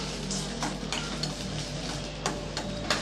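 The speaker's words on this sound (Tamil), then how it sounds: "ஒரு பதினஞ்சு பல் பூண்டு உரிச்சு வச்சுருக்கேன் இப்போ அதையும் சேர்த்துடலாம் சேர்த்து நல்லா வதக்கி விட்டுறலாம்" Peeled garlic cloves and ginger sauté in a hot pan for a chicken curry masala, a dense continuous sizzle punctuated by several sharp spoon taps and stirring scrapes.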